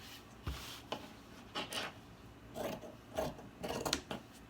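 Folded fabric corners are cut for a pleated face mask, giving a handful of short, crisp rasping cuts up close with quiet gaps between them.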